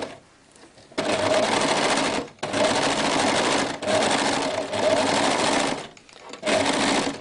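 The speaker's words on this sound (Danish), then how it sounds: "Det første, vi lige skal overlocke, det er lige de små skuldersømme her" An overlock sewing machine serges the small shoulder seams of a T-shirt in close, loud runs of rapid whirring, broken by several short pauses.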